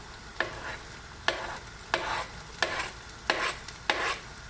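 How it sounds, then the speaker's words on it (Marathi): Chopped onion fries over garlic in a pan, with a soft sizzle broken by about six regular stirring scrapes of a spoon, close and fairly quiet, with no talking. "आता ह्या लसणीवर मी हा कांदा टाकते"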